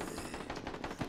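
Rapid burst of gunfire in the video game Dead Rising 4, a dense continuous rattle of shots lasting about a second, moderately loud with no talking.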